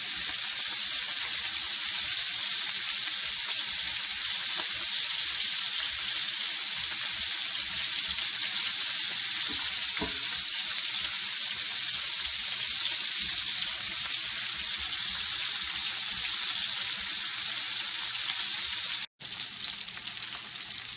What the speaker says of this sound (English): We'll put the potatoes cut side down until it forms a nice brown golden crust.